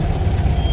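An old car's engine idles low and steady after being shifted into reverse with a manual transmission, with a thin high whine emerging near the end of the short moment.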